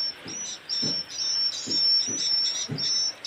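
High, thin chirping tones repeat in a steady pulsing pattern, electronic-sounding recorded swiftlet colony calls used as a lure sound, with soft low thumps recurring beneath.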